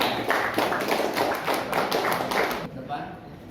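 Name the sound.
applause for Diva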